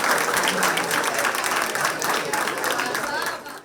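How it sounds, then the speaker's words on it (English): Loud, sustained audience applause at a nursery school annual day, many hands clapping together with faint crowd murmur, tapering off at the end. "Let's give a big round of applause to all our little champs."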